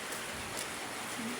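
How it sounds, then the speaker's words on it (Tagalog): Rain falling steadily on a rural yard where chickens are fed, an even hiss of drops on surfaces, moderately loud and continuous with no voices. "Ulan."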